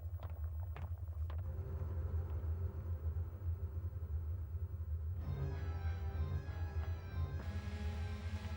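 Animated engine room of the submarine Nautilus with its engine running: a continuous low mechanical hum and drone, a few sharp clicks early on, then brighter tonal whirring layers joining in, with no speech.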